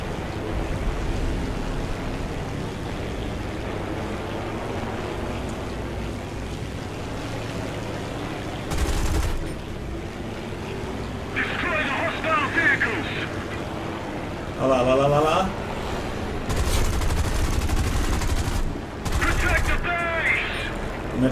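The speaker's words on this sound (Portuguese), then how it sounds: "Olha lá, os caras já estão me atirando." Enemy gunfire in a WWII video game, short bursts of rapid shots cutting through a constant engine-like drone, with a voice talking over it.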